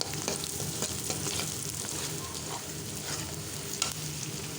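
Whole bay leaf, cinnamon, and black and green cardamom crackle in hot oil in a pan for a Bengali beef curry, a continuous close sizzle punctuated by stirring scrapes and small pops throughout.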